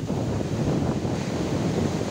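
Big waves and strong wind at Damas beach in Karanggandu, Watulimo, Trenggalek: a continuous rushing roar of surf mixed with gusty wind buffeting the microphone, steady and fairly loud, no voices.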